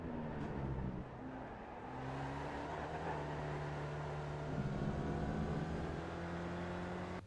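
A Spec Racer Ford race car in iRacing drones at high power around Road Atlanta, its engine tone steady with shifting pitch as it revs through the corners, loud and continuous with no talk.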